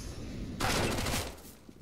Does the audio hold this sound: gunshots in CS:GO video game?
yes